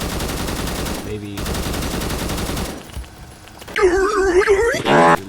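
Rapid automatic fire from a C25 rifle in a video game, a loud sustained burst, a short pause, then another burst, followed by warbling in-game effects.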